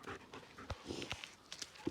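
A dog pants quickly and rhythmically up close, quiet breathy huffs with a faint whine.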